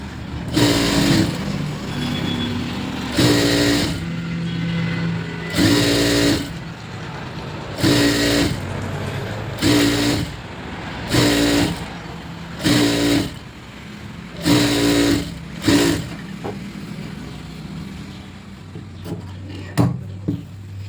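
Home sewing machine stitching a piping strip onto a blouse neckline, running in repeated short bursts of a few seconds each with brief pauses between, fairly loud and close.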